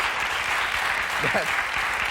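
Applause from a TV studio audience on a 1994 talk show, steady dense clapping heard briefly with a voice speaking over it.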